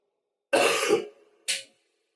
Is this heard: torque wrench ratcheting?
no